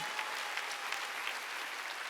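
A congregation claps during a Wednesday church worship service: steady, dense applause from many hands fills the room evenly for a couple of seconds, with no speech over it.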